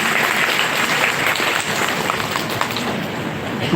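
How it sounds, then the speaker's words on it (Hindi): An audience claps in steady, dense applause at a motivational session, loud and continuous with no voices over it. "इनके लिए भी ताली बजाई जाए"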